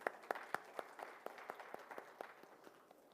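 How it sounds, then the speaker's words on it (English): Applause for speakers at a RuPay contactless credit card launch event: faint, sparse clapping with separate distinct hand claps in a loose rhythm, fairly distant. "A huge round of applause for all our esteemed speakers, everyone"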